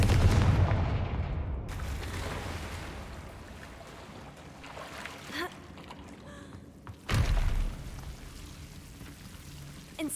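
Confringo fire spell in Hogwarts Legacy: loud explosive blasts, one big boom at the start and another a few seconds later, with crackling debris and fainter hits between them.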